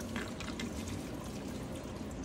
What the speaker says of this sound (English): It's gonna leak a lot because this is going to the thermostat, so I can hear all that bubble, that bubbling inside it.